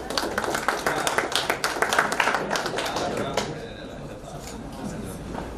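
Audience applause welcoming a poet on stage at a mushaira, a steady wash of many hands clapping for about three seconds before thinning out into a quieter, scattered patter.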